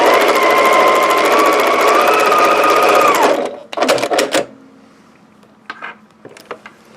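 A sewing machine stitching a paper-pieced log cabin quilt block runs loud and steady for about three seconds, then stops with a few clattering mechanical clunks, followed by quiet handling taps.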